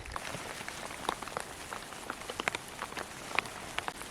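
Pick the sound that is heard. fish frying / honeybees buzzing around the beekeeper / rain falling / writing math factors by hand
rain falling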